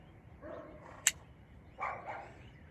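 A second dog barks outdoors, a few mid-distance barks in two short bursts with a sharp click between them, fairly faint against quiet background.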